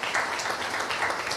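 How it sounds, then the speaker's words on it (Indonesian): A church congregation claps together in praise, giving a steady wash of moderately loud applause with no clear voices. "Berikan tepuk tangan dulu buat Tuhan Yesus."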